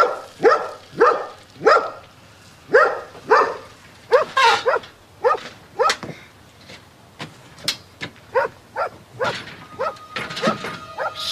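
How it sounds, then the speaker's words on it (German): A dog barking repeatedly in close, loud bursts, about a dozen barks in uneven rhythm with short gaps and a few yips, and occasional speech faintly between them. "Ja, du bist ein braver Hund."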